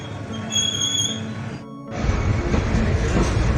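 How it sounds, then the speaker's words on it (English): A steam train hauled by a diesel locomotive rumbles past in Elgin, Western Cape, with a loud rolling clatter, a brief dip mid-pass, and a high tone early on. "the actual steam train broke down and was being pulled by a diesel engine"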